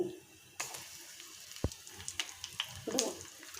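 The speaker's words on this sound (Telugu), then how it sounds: "ఎండుమిర్చి అండి వేసేసుకుందాం ఆయిల్లో అవి ఫ్రై అయిపోయాయండి" Dry red chillies frying in hot oil, a steady close sizzle with small crackles and pops, a sharp clack partway through, no talking.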